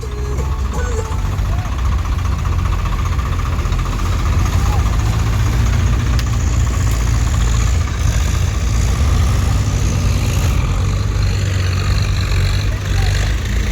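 A low, steady engine rumble runs throughout, loud and continuous like a heavy tractor motor idling, from a tractor stuck in flood-damaged farmland, with indistinct voices faintly mixed in.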